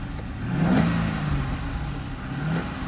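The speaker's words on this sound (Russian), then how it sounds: "Так, ну что, завелась тачка." Corvette engine just after starting, revving up once near the beginning and settling into a low, mid-pitched idle with a second smaller rev toward the end, heard up close with no talking.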